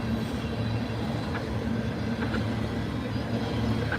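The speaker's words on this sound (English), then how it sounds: "Interesting hopper cars." A freight train of hopper cars rumbles steadily past up close in the snow, a continuous low roar of rolling cars with faint clanks and wheel noise throughout.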